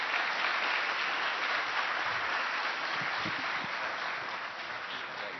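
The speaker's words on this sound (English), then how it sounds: "Round of applause for this terrific panel." An audience gives sustained applause to a panel at a teach-in on the economy, a steady full wash of many hands clapping that holds evenly throughout.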